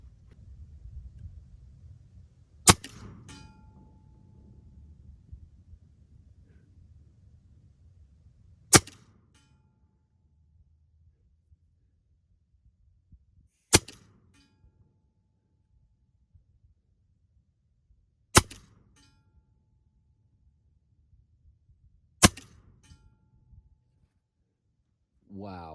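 Five sharp, loud shots spaced several seconds apart from an EDgun Leshiy 2 air rifle firing 34 grain H&N slugs, each a crisp crack with a short tail, over faint low rumble early on.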